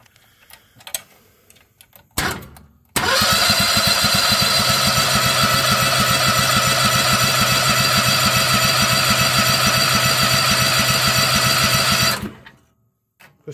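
A Predator small engine swapped into a Bobcat starts after a brief crank and settles into a loud, steady, rapid idle for about nine seconds before shutting off, with faint sounds before and silence after.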